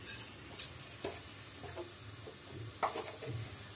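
Vegetables for veg pulao sizzle quietly in a pan, with a low steady frying hiss broken by several light scrapes and clinks from stirring, close by and without speech.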